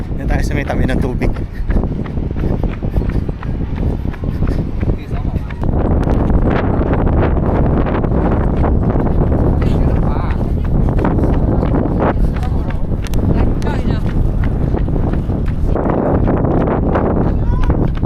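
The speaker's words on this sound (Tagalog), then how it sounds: "Napakahangin." Strong, steady wind roaring across the microphone outdoors by the water in Tsim Sha Tsui, Hong Kong, a constant broadband rush with gusty swells, and a voice speaking intermittently underneath.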